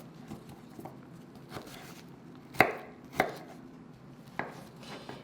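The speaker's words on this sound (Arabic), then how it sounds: "هلا هون انا بدي اقطع البصله جوانح لهالطبخه" A knife chops onion into wedges on a cutting board, giving a few sharp, irregular close knocks over quiet kitchen background, with no talk.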